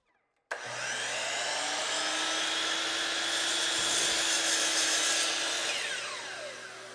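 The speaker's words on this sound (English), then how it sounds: "I'll cut it in half with a chop saw" A chop saw spins up and cuts a cherry board in half, a loud steady whining roar lasting several seconds before winding down at the end.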